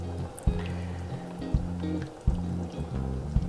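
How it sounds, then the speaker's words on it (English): Chopped tomatoes and their juice pour wetly into a cooking pot, a close liquid glug and slosh with a few soft plops spread over a few seconds. "So now is a good time to add our chopped tomatoes in their juice."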